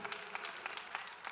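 Audience applause at a women's persistence march, a steady patter of clapping with a few louder bursts, fairly faint and without voices.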